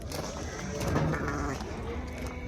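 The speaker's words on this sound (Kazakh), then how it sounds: "Ұрғаш қозылар екен" Sheep and lambs bleat at a livestock market, with a couple of wavering bleats rising over a busy crowd murmur close by.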